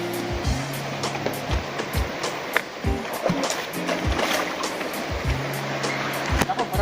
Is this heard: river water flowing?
yes